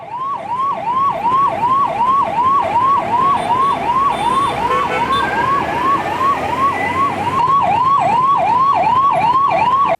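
An ambulance siren wails in a fast, regular rising-and-falling cycle at a vehicle flag-off for a new service, loud and close over the idling engine.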